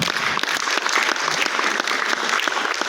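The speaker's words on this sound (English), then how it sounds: "Yeah, you can clap." Audience at a business growth conference in Nigeria breaks into clapping, a continuous, fairly loud roll of many hands with crisp individual claps throughout.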